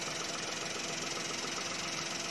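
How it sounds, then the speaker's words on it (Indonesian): A used Suzuki Karimun Wagon R with a three-cylinder engine idles, a steady, loud, even mechanical drone with a slight rhythmic shake running unbroken throughout. "Nah, ini suara mesinnya khas 3 silinder ya."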